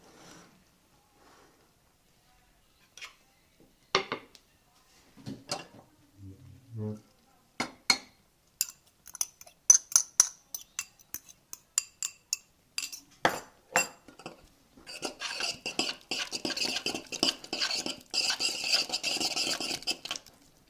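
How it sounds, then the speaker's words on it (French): Grated gruyère cheese being mixed into cold béchamel sauce in a bowl, scattered clinks of utensil against the bowl building into a steady, busy run of stirring scrapes near the end. "je vais venir mélanger le gruyère avec la béchamel"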